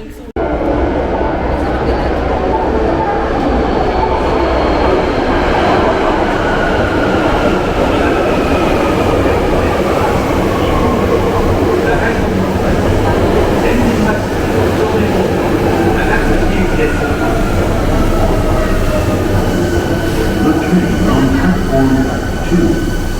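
Osaka subway train on the Chuo Line riding underway, a steady loud rumble of wheels and motors with faint squealing tones throughout, close and continuous.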